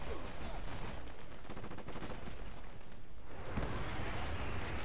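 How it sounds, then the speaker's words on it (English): Dense, continuous gunfire and explosive bursts from a Dirty Bomb match at a chapel, with rapid rattling shots throughout and a heavier blast swelling near the end. "That's an airstrike."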